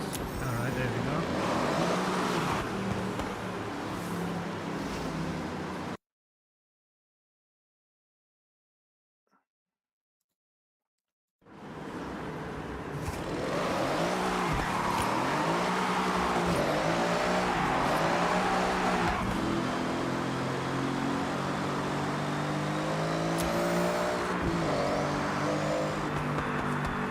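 Engine of a drift car in Forza Horizon 6 roars steadily with rising and falling revs, loud and continuous apart from a silent gap of several seconds near the start, with a voice talking over it at times.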